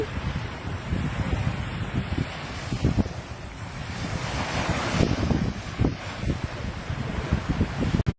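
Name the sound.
sea breeze and waves at the beach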